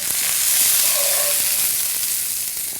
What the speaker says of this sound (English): Just put your half onions in there.